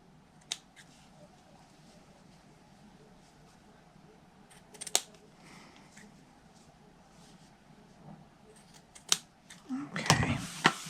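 Scissors trim ribbon on a paper gift box in a few sharp, isolated snips spaced seconds apart, close and quiet, ending in a denser rustle of handling.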